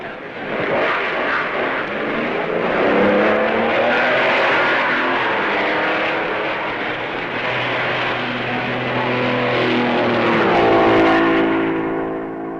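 A 1955 Maserati Formula 1 race car at the Belgian Grand Prix, its engine droning loudly as it pulls away from the pits, the pitch climbing toward the end.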